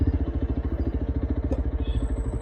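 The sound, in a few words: motorcycle riding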